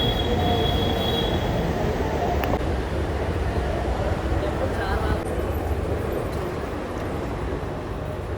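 A metro train pulls into a station and passengers get off; steady low rumble of wheels and railcar noise fills the scene, loud and continuous, with a faint squeal near the start.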